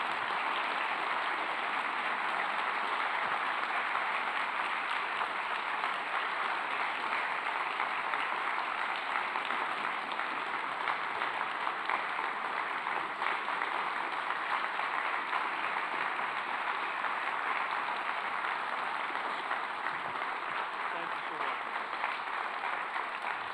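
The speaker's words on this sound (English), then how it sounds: "Let's give him a round of applause." Sustained audience applause fills a hall at a lecture event at the Nixon Library, a steady dense wash of clapping holding at even loudness throughout with no break.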